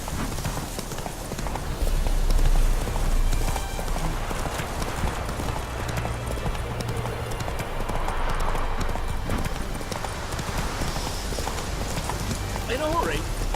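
Continuous hoof clip-clop of a galloping horse in The Witcher 3, steady and loud throughout, with game ambience underneath and a brief whinny near the end.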